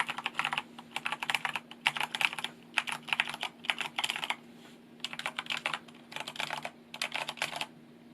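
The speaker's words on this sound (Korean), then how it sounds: "타이핑하는 소리도 PBT가" Bursts of rapid, close clicking come from a Corsair K70 keyboard with PBT keycaps, typed in several short runs with brief pauses between them, over a faint steady hum.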